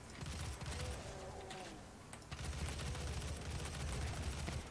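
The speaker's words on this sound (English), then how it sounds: "Somebody shooting me in the back." Enemy hitscan gunfire in Doom, with rapid crackling shots and mechanical clatter layered in a dense, noisy firefight, fairly faint and continuous with a brief lull midway.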